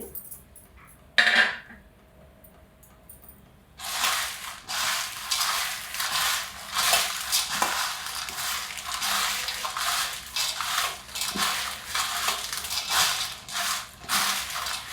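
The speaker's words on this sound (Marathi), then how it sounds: "ही बुंदी मी ह्याच्यामध्ये घातली आता मिक्स करते सगळी मिक्स करते" Sticky boondi being stirred into sugar syrup in a pot for laddu, a run of wet clattering scrapes and squelches from a spoon against the vessel, fairly loud and close after a quiet start.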